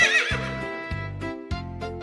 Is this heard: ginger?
no